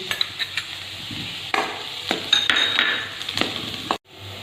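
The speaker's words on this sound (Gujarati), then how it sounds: "આદુ અને લસણને આપણે બે મિનિટ સુધી સાંતળીશું" Ginger and garlic sautéing in hot oil in a pan for Szechuan sauce, a soft steady sizzle with occasional scrapes and clinks of a stirring spoon, close.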